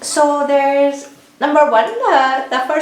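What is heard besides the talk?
No distinct noise like a dog, phone or traffic.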